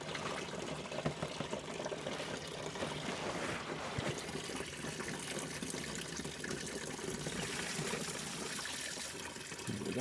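Engine coolant draining from a Porsche Boxster in a garage, a steady soft trickling and splashing stream of liquid running continuously, faint and unbroken with no talk.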